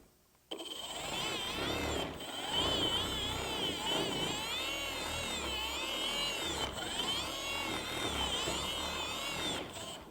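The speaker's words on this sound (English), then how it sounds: "it has a 15 millimeter throw and a free rotation" A Milwaukee M18 FUEL cordless random orbital polisher with a 15mm throw runs steadily after a sharp start, its whirring motor wavering slightly in pitch as it works, loud and close.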